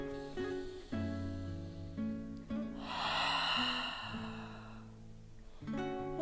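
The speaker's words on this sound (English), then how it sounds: "Breathing in here." A long, breathy inhale during a yoga stretch rises over soft background music, near and clear, with no talk during it.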